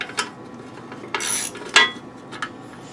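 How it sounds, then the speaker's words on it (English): Socket ratchet clicking on nuts of a Ryobi RY28121 26cc trimmer tiller cultivator attachment, giving a few short, sharp metallic bursts spaced across a few seconds with quiet gaps between them. "we'll have to hit them with the socket."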